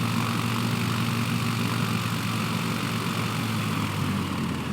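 A simulated propeller airplane flying near KCHS airport in a flight simulator game gives a steady, loud engine drone that holds unbroken throughout, with no voices.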